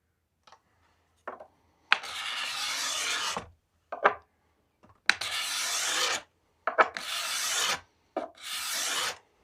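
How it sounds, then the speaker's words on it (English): A cabinet scraper shaves a wooden bow limb in long rasping strokes, about five loud, close scrapes with short pauses and light taps between them, no one speaking. "So the cabinet scraper is giving me super fine shavings as well as a nice finish"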